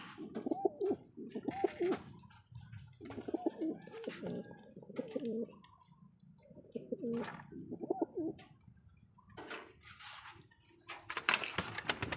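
Several blue bar pigeons coo repeatedly nearby in a loft, their soft throaty rolling calls overlapping in rhythmic bursts, with faint rustling in the background.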